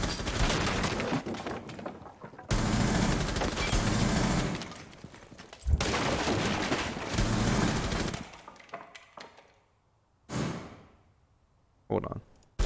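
Gunfire rattles in Rainbow Six Siege: dense, loud bursts of automatic fire fill the first eight seconds, with short pauses between them, followed by quieter single shots and whooshes near the end.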